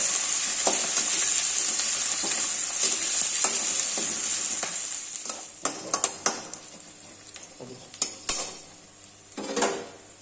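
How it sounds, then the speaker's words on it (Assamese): Loud, steady sizzling of onions and green chillies frying in oil, broken by scattered clinks and scrapes of a utensil against the pan. "এই আমাৰ জলকীয়া পিঁয়াজখিনি ভাজা হৈ গ'ল"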